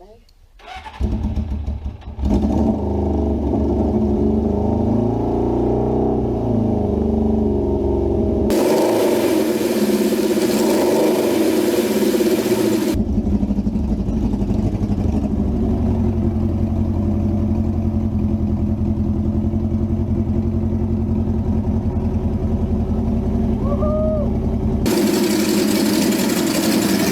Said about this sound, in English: There we go folks, one running bike.